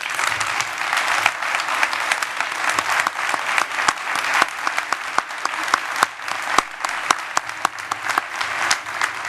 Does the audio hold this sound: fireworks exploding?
no